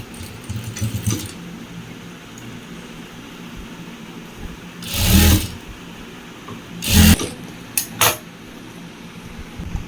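Sewing machine stitching a small fold into a piece of school uniform fabric: three short, loud bursts of whirring stitching separated by quieter rustling and handling of the cloth.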